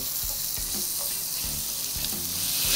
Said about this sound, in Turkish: Biraz baharatları da kavuruyorum.